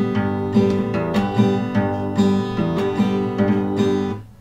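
Acoustic guitar chords strummed in a steady rhythm, with quick hammered-on notes between strums, ringing close and clear before fading at the end.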